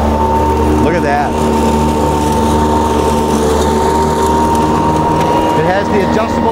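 A Toro electric lawn mower runs steadily with a constant whirring motor hum, loud and close throughout, with brief rattling bursts partway through.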